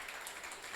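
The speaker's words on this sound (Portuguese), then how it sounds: "Por favor, palmas para o Chicão." Audience applause greeting a panel speaker at a public-policy forum on innovation and sustainability, a steady, even wash of clapping held at a modest level throughout the short stretch with no voices over it.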